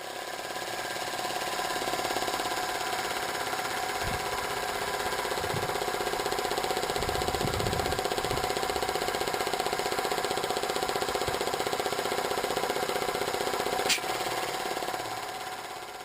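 A homemade belt-driven air compressor with a tighter belt and a smaller pulley runs steadily, giving a continuous mechanical drone with a fast rhythmic chatter and a few faint knocks. It stays at an even level throughout, with no talk.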